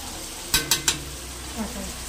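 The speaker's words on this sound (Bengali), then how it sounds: "এখন পেঁয়াজ ভাজা বসানো হয়েছে, পেঁয়াজটাকে ভাজা হোক।" Onions frying in a pan for a home-cooked chicken kosha, with a soft steady sizzle and three sharp scraping clinks of a spoon against the pan, followed by a faint clatter.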